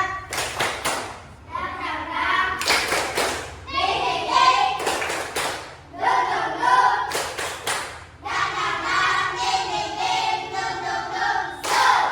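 Schoolchildren in a classroom performing a rhythmic spirit clap, with bursts of patterned clapping alternating with chanting voices, loud and close, repeating several times.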